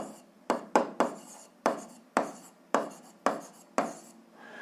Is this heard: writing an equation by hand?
yes